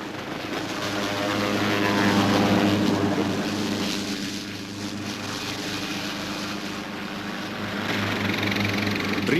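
A helicopter flies over the Amazon rainforest, its engine and rotor drone loud and continuous, swelling slightly and then easing as it passes.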